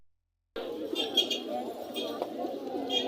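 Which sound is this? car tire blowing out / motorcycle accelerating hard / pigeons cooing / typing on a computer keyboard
pigeons cooing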